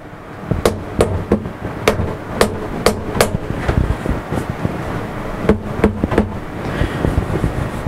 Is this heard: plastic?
yes